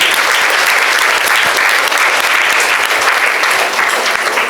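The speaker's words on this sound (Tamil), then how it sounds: "3 பேர் கைதட்டு கொடுங்க பார்ப்போம்." Steady, loud applause from a school crowd at an Independence Day celebration in Thiruppathur, dense clapping filling the whole stretch without a break.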